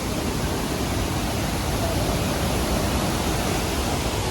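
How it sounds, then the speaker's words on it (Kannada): A waterfall roars in a dense, unbroken rush of water, loud and close, with no voices over it. "ಅದ್ಭುತವಾದ ಜಲಪಾತ"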